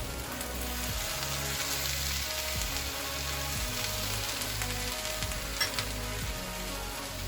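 Chopped tomatoes, black beans and corn sizzle steadily on a Blackstone griddle as a Southwest quesadilla filling cooks, a continuous close frying hiss with occasional scraping stirs underneath.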